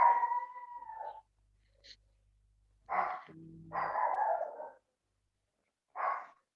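A dog barks and yowls in several separate bursts, some drawn out and whiny, with short silences in between.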